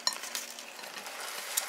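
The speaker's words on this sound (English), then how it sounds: "So this is going to go directly into the frying pan." Non-GMO beef cube steaks frying in a frying pan, giving a faint, steady sizzle with a couple of light utensil clinks.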